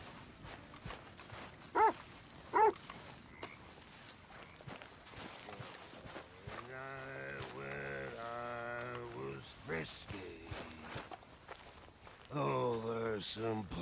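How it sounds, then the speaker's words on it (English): Two short, sharp barks from a dog in Red Dead Redemption 2 stand out early over quiet game ambience, followed by voices and sung, music-like passages. "Arthur, a dog."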